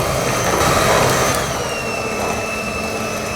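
Electric whisk whirring steadily through brownie batter, a continuous close motor drone with a slight dip in speed partway through, no talk.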